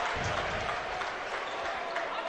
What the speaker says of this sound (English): To the roar of the Cardinal home crowd